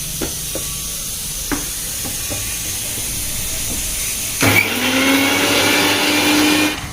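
Mixer grinder grinding red chillies, garlic and salt, a loud whirring motor roar starting abruptly partway through and running steadily to the end, after light clinks and taps beforehand.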